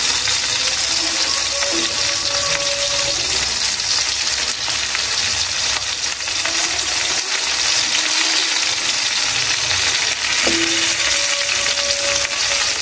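Koi fish sizzle in a hot frying pan with a continuous loud crackle, broken by occasional scraping and clinking from stirring.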